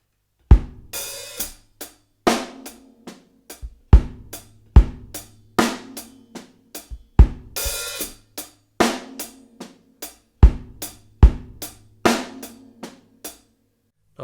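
Drum kit playing a linear groove in 4/4 with the hi-hat opening, crisp sharp hits in a steady repeating pattern, close and loud, with splashy open-hat washes between the strokes and no voices.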